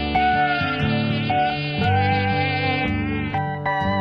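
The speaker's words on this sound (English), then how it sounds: "Mosquito." A mosquito's buzzing whine hums steadily and loudly for about four seconds, close and alone, with slight shifts in pitch along the way.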